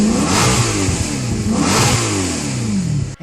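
A 2003 Maserati sports car engine revs hard and close, a loud, steady mid-range roar that climbs and falls in pitch twice over a few seconds, with no voices.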